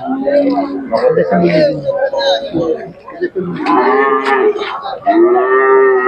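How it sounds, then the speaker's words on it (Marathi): Gir cows at a cattle market in Sangola, Solapur moo repeatedly and loudly up close, long drawn-out lowing calls overlapping with a busy background. "तर अशा प्रकारच्या गिर गाई येतात"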